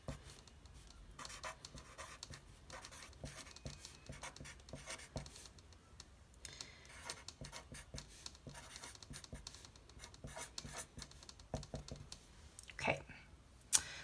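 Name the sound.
writing numbers by hand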